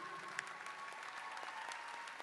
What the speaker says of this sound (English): I'd like to have us all give a big round of applause to all our guest speakers